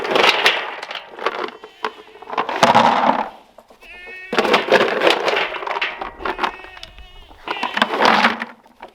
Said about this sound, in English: we'll go feed the goats and check out the baby goats